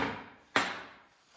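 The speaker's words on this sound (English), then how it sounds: "a 4 pound hammer gives a lot more of a mark for you to see" One sharp, close crack as a 4-pound hammer strikes steel table-leg stock to mark a spot for drilling, with a ringing tail that fades over about a second.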